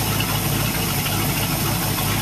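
A True North 327F V8 engine idles in a steady, loud, continuous rumble with an even low throb throughout and no voices.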